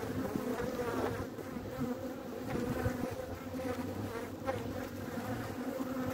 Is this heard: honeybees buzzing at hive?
yes